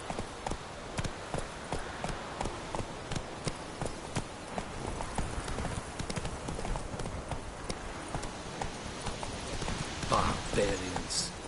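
The horse Roach galloping in The Witcher 3, a quick steady clip-clop of hooves running throughout, with a voice speaking over it.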